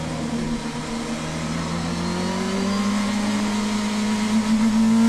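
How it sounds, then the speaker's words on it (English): A number 25 BMW DTM race car on a qualifying lap at the Nürburgring holds a steady engine drone that climbs gradually in pitch and grows louder, with no voices over it. "here's Philipp Eng then in the number 25 BMW going for a timed lap now"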